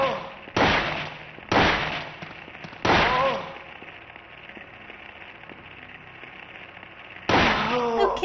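Handgun shots in the survival horror game Silent Hill, four sharp, loud single reports spaced a second or more apart, each with a short ringing decay over a quiet background.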